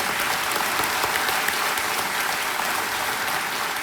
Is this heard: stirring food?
no